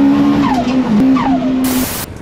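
A K20-powered Peugeot 306 accelerates at a Castle Combe track day, its engine note sweeping quickly for about two seconds, loud and near, over a steady tone.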